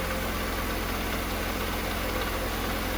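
A Mercedes SL engine idles close by just after a first-key start, with a steady rhythmic low throb and a slightly rough pulsing beat. No voices are heard.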